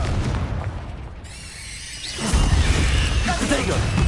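A Confringo fire spell in Hogwarts Legacy bursts into a loud, booming explosion midway, preceded by a quieter rumble and followed by crackling debris.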